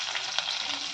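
Sliced onions fry in hot oil with mustard seeds, green chillies and curry leaves, giving a close, bright, crackling sizzle that runs steadily through the moment.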